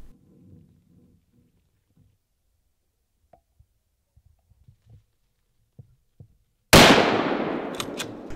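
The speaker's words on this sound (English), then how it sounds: "before taking a follow-up shot through the dense woodland" A single loud rifle shot at a mouflon ram in Transylvanian woodland cracks out sharply after near silence and a few faint rustles, then rolls away in a long echoing tail.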